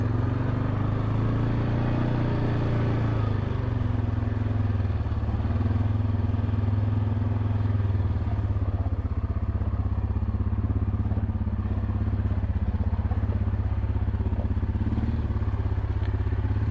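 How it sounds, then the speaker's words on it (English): A Yamaha Grizzly 450 ATV engine runs continuously while climbing over rocks on a trail, a loud, close, rumbling drone whose pitch rises and falls with the throttle. "I'm driving a Yamaha Grizzly 450"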